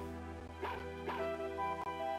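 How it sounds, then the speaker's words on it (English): A dog barks in the video game Mother 3, with a few short, soft yips spaced apart over a steady tonal game backdrop. "Bark, bark."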